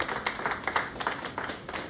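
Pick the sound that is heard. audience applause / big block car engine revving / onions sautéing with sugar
audience applause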